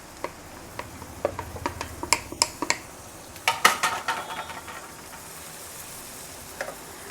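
Capsicum going into a frying pan, with a soft sizzle underneath a scatter of sharp utensil clicks and taps that cluster in the first half and then thin out to a quiet hiss.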